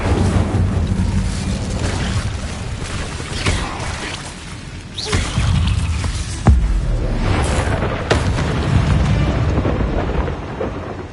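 Fire spells cast in Hogwarts Legacy inside a cave, heard as loud roaring, crackling bursts with a couple of sharp impacts, rumbling continuously without speech.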